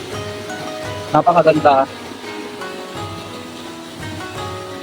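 Continuous rushing water from a man-made irrigation waterfall at Kalipki Eco Park in Barangay Busilak, with a man's brief spoken remark briefly rising over the steady flow.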